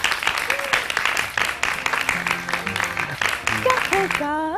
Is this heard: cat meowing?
no